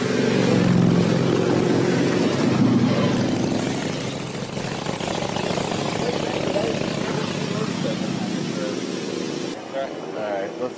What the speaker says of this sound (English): Nope, motorcycle.